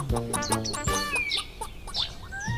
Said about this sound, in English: The rooster eventually flew off and left her.